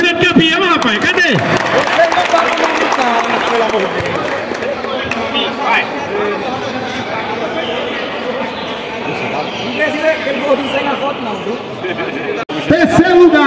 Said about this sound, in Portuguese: Uma salva de palmas pro grande campeão, rapaz.